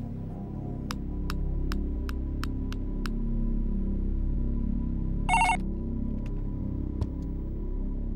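A mobile phone rings with a short repeating electronic tone over a low steady hum, followed by a brief burst of a brighter ringtone and a few faint clicks, with no voices.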